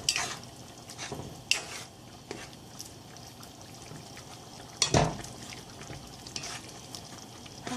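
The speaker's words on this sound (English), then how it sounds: "I'm just gonna keep stirring this" Food being stirred in a pot on a home kitchen stove, with sporadic spoon scrapes and clinks over a low bubbling sizzle, a couple of sharper knocks standing out.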